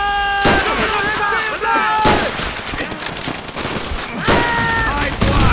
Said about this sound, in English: Sniper fire! Where the hell are they?